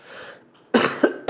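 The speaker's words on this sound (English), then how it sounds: "I was coughing all the time." Two close, harsh coughs burst out in quick succession from a person streaming a Hell Let Loose game, after a quieter stretch of soft background sound.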